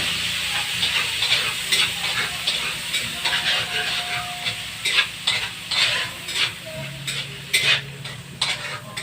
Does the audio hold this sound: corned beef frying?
yes